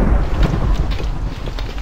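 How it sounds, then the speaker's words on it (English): A Minecraft thunderstorm sounds as a loud, close rumble of thunder over steady hissing rain, continuous and heavy with no voices. "Oh, and now it's thunderstorm."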